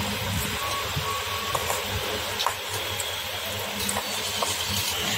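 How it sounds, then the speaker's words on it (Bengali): Potato paratha batter being beaten with water added little by little, a steady wet whisking hiss with faint rhythmic taps, close and continuous with no voices. "এইবার অল্প অল্প করে জল দিয়ে এটাকে ভালো করে ফেটাবো"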